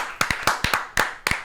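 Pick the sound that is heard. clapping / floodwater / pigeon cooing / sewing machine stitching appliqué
clapping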